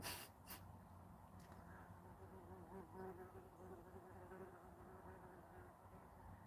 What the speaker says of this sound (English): It's like every single time I do a video, a bee flies in.